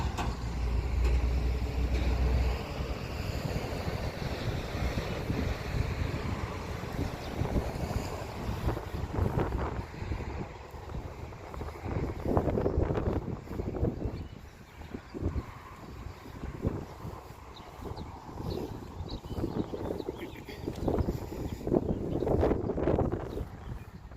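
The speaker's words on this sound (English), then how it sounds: "So much wind." Strong wind buffeting outdoors at a Salem cemetery, the site where Giles Corey died, a continuous loud rushing roar with gusty swells and rumbling mic buffeting that goes on for the whole stretch, no voices.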